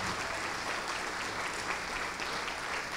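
A church congregation applauding in praise, a dense, steady wash of many hands clapping at moderate volume, continuous and even for the whole stretch with no voices standing out.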